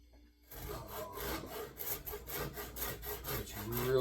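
A Shinto rasp shapes an octagon onto a wooden Adirondack axe handle: close, rhythmic rough scraping strokes begin after a brief silence and repeat steadily back and forth.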